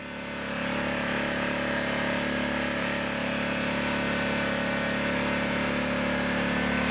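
A portable generator aboard a DIY bowfishing light boat runs steadily with its economy switch off, a loud, even engine drone with a constant hum that holds unchanged from start to finish after a brief rise.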